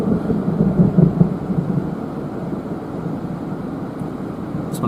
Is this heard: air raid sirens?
no